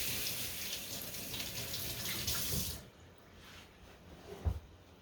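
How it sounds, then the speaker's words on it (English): Water runs from a kitchen tap as hands are rinsed, a loud steady splashing stream for nearly three seconds before it stops, followed by a brief thump and quieter room sounds. "let me rinse my hands because my hands are on fire"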